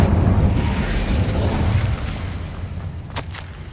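Incendio fire spell in Hogwarts Legacy: a loud, deep whooshing blast of flame rumbling for a few seconds, thinning into a brief crackling burst near the end.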